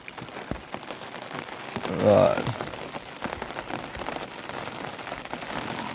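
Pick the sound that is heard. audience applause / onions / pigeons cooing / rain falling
rain falling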